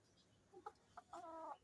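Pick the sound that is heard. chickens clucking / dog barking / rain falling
chickens clucking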